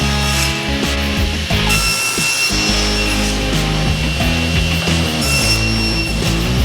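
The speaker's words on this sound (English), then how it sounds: "I use my crosscut sled to cut all the pieces down to their final length." A table saw with a crosscut sled cuts birch plywood pieces to length, a loud close whine under a steady motor drone, with the pitch dipping briefly as each cut is pushed through.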